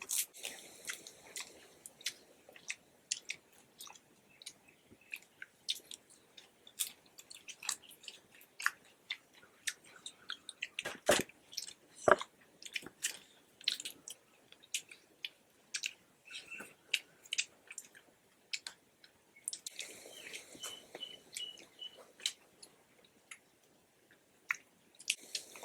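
Crunchy biting and chewing of fried quail in a village kitchen setting, close and intermittent with sharp crisp bites and wet mastication, no talk.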